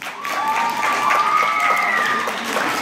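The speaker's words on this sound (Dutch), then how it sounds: "Een applaus nogmaals voor de jury." Brief burst of audience applause for a jury at a school film project award evening, with scattered cheers and whoops rising over the clapping crowd.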